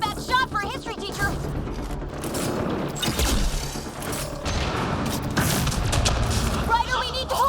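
Rapid bursts of gunfire and booming impacts ring out in a Mass Effect Andromeda firefight, continuous and loud, mixed with voices talking.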